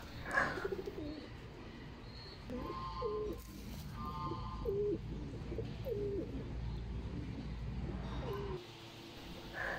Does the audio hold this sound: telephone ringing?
no